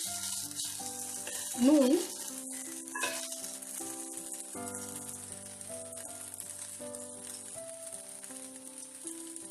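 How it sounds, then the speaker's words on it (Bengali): Maggi noodles fry with vegetables in a pan, giving a soft, continuous sizzle beneath background music, while someone speaks briefly near the start. "ম্যাগিটাকে খুব ভালো করে ভেজিটেবলস গুলোর সাথে ভেজে নেব।"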